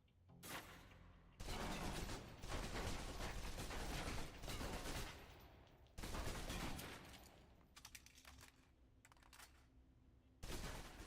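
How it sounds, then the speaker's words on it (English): Submachine gun in a PC shooter game empties its magazine in long rapid bursts of loud automatic fire, broken by short pauses and a few brief follow-up bursts near the end. "Now let's empty the clip. Let you get a feel for the recoil."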